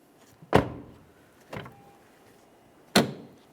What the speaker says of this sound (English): Now let's test the inside door handle.